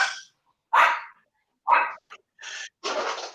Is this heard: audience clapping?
no